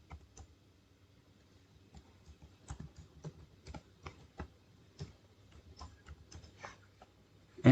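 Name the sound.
typing a new password on a computer keyboard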